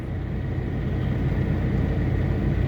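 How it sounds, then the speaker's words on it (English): Constant engine-like drone from a vehicle with its air conditioner running at a truck fuel stop, a steady low rumble and hum filling the whole stretch without pause, fairly loud and close, with no talk over it. "So we ain't turning the air conditioner off. You're going to have to put up with a little bit of noise."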